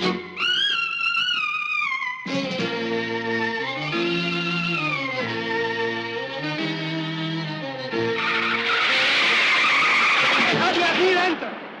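A car brakes hard with loud squealing, skidding tires that rise and waver across several sustained screeches, ending in a harsher, noisier skid; voices may be mixed in.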